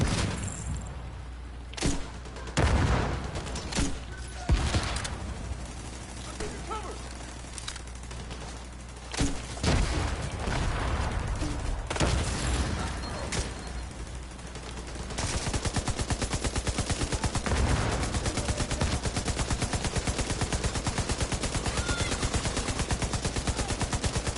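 Heavy game gunfire: scattered loud shots and bursts early on give way to a long, dense machine-gun stream that runs without pause for the last ten seconds.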